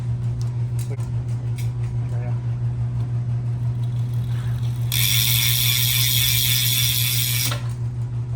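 A bicycle wheel with a through axle and a freshly changed tube spins in a workshop, with light scattered ticks and then a few seconds of fast freewheel ratchet buzzing over a steady low hum.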